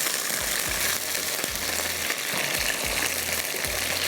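Onion frying in a little oil gives a steady, even sizzle with faint stirring and occasional low knocks of a utensil against the pan, fairly quiet and without talk.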